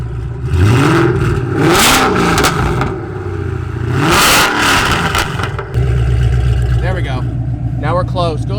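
A 500 hp Mustang GT with a custom exhaust revs in sharp, loud bursts through open exhaust cutouts, two big revs then settling to a lower idle, with people talking close by.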